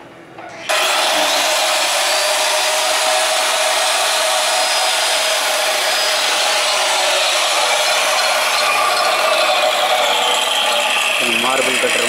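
A marble cutter runs continuously while cutting wood for a honey bee box, a loud, steady high-pitched whine that starts abruptly and holds for the whole stretch, close to the microphone.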